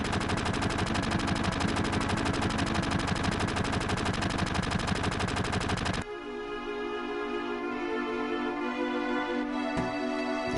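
Rapid automatic gunfire from Barret's arm-mounted gun in Final Fantasy VII, a dense, loud rattling burst for several seconds that cuts off abruptly, followed by lingering game ambience and a single sharp impact.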